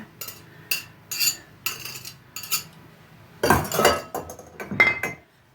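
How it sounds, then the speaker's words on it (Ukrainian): A utensil clinks and scrapes against a bowl while mixing eggs for poppy seed doughnuts, in quick, irregular bursts with short pauses between strokes. Quiet, close-up, no talking. "вимішую трошки яйця"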